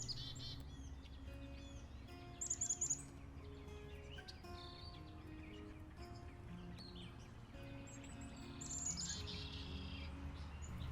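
A Blackburnian warbler sings outdoors. Faint, very high thin song phrases come in two short bursts over a soft background of other distant bird calls and ambient hum.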